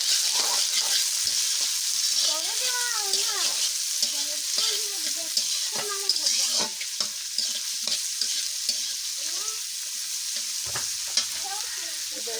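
Onions and green chillies fry in hot oil, making a loud, steady hiss with faint tonal background sounds and occasional clicks of stirring.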